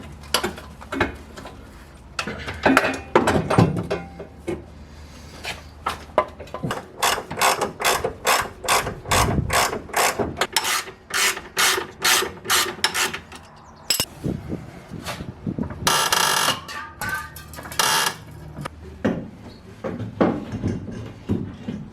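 A ratchet wrench clicks in repeated quick bursts as it tightens bolts on a rear trailing arm of a Honda Civic del Sol during a suspension swap, the rhythmic ratcheting close and clear with short pauses and no talking.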